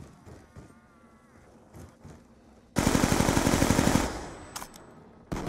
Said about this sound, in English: You can shoot whenever you want.